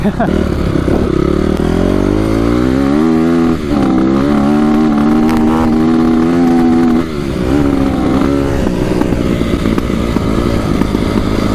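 Close by, a Honda CRF250R dirt bike engine that had trouble starting runs loudly. It revs up and down in rising and falling sweeps, then settles into a rough, steady idle with a voice faintly underneath.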